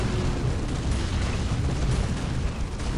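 A Deathwing Dreadnought's autocannon fires in a Dawn of War battle, producing a dense, continuous roar of booming blasts and heavy rumbling impacts that run without pause for three seconds.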